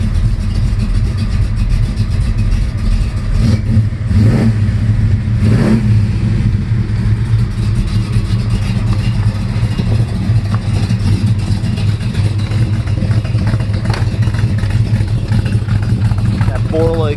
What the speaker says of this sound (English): That Borla exhaust.